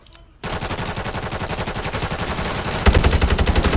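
Rapid automatic gunfire in the video game Warzone, a dense, loud stream of close shots that starts abruptly after a brief quiet, then intensifies with a heavier second weapon joining near the end.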